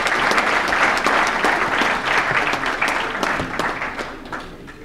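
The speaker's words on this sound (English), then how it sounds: "could you please give him a round of applause?" A room of diners at a bowling hall of fame awards dinner claps for an absent honoree, brisk applause that is loudest at first and gradually thins out over a few seconds.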